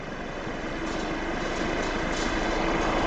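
A steady, loud whirring hum of a blower fan spinning wind turbine blades on a wind generator tester, broadband and constant with a slight rise in intensity, no voices.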